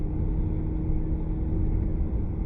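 An Aston Martin V8 Vantage accelerates on a cone-marked driving course, a steady, loud, close engine rumble that keeps on without a break and with no voices over it.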